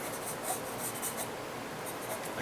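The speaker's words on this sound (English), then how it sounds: "I can draw it in with the charcoal pencil" Charcoal pencil scratching across paper while drawing a wineglass, a steady close dry rasp with quick back-and-forth strokes, no talking.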